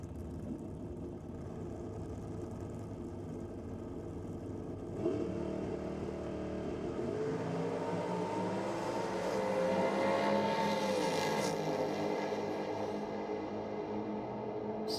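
Nitrous drag racing cars at a nitro championship meet leave the starting line. A distant engine rumble swells into a rising, roaring launch that carries on and then fades.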